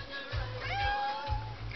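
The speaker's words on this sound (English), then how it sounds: "That's my cat." A pet cat meows in a rising, drawn-out call inside a home studio, close and clear over low background rumble, with no talk.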